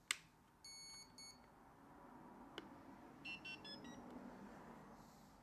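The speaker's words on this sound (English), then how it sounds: "as you can hear it, the motor is beeping" A homemade RC plane's motor gives short, faint electronic beeps in clusters: a pair of tones early on, then a rapid string of three or four beeps later. They sound quiet and thin against a low background hiss, with a click at the start.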